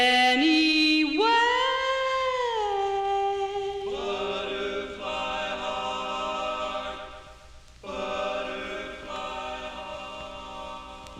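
A 1958 doo-wop record on Decca, a female singer with a male chorus, plays with a clear, sustained female vocal over soft backing harmonies and light instrumentation, at moderate volume.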